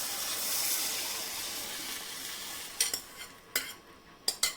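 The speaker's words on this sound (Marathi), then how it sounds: "हे पाणी टाकल्यानंतर मी छान मिक्स करून घेतले" A steady sizzling hiss from a hot pan on a lowered flame as dal stock is added for katachi amti, followed by a few sharp scraping strokes of a spoon stirring the liquid.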